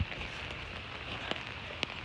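Rain falls steadily outdoors on a residential street near a flooded patch, a soft continuous hiss with a few sharper drop ticks, fairly quiet and with no voices.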